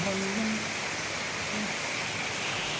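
Heavy rain falls in Velachery, Chennai, as a steady, dense broadband hiss that runs unbroken throughout, with a faint tonal hum in the background.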